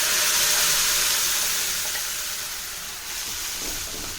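Ground paste hitting frying cumin and dried fenugreek leaves for a sweet corn gravy, giving a steady, fairly loud hissing sizzle that slowly eases, with no talking.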